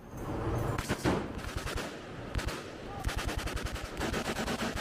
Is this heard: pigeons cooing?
no